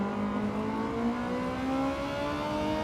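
Red Bull Junior race car engine in a racing video game, a steady high-pitched whine with rising, layered engine harmonics held at a constant loud level throughout.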